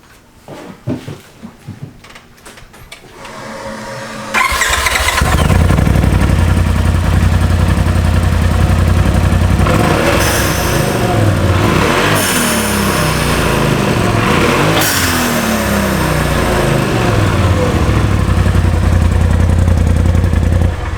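A Polaris RZR side-by-side fitted with a Turbosmart blow-off valve cranks with clattering starter noise, then fires up and roars loud and close, revving several times with bursts of whooshing turbo release between revs.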